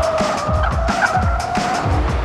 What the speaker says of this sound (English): Massive amounts of wheel spin in second gear as he crosses the finish line.